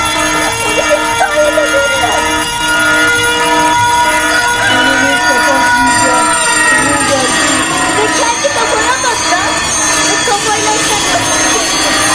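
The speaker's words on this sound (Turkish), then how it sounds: "Alarmları çalıştırın" A steady electronic alarm tone blares loudly throughout, with voices shouting over it and a busy, cluttered mix of sound beneath.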